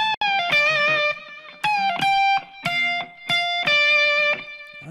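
An overdriven electric guitar plays a rock solo lick straight, without bends, as a quick run of distinct sustained notes in short phrases with brief gaps, close and loud.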